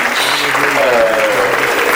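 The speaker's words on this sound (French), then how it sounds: "on peut applaudir à tous ceux qui ont participé à cet extraordinaire" Loud, steady applause from a crowd at the end of the Rosetta space mission, continuous clapping filling the whole moment.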